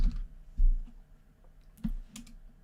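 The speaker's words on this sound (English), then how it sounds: "You can just start by typing." Clicky keystrokes on a computer keyboard in an office CRM setting, a few separate bursts of taps with quiet gaps between them, close and alone without talk.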